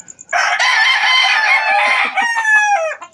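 A Boston Roundhead rooster crows loud and close, one long cock-a-doodle-doo followed by a shorter trailing call, with no talking over it.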